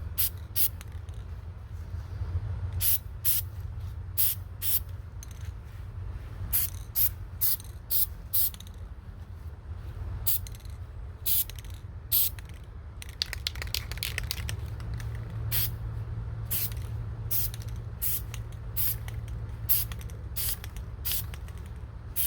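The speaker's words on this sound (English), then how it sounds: "I'm also going to make sure I spray downwards" Short repeated bursts of spray paint on an AR upper receiver, rail and handguard, hissing in quick rhythmic pulses close by over a low steady hum, with a few soft mechanical clicks between strokes.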